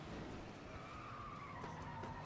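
Race cars in FlatOut Ultimate Carnage, engines droning steadily with tires skidding and sliding, a continuous dense roar of several cars close around.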